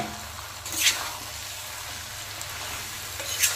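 Fish heads and potatoes sizzle softly in spiced oil in a pan for a cabbage ghonto, a steady low hiss with a couple of brief brighter crackles, fairly faint and with no talking.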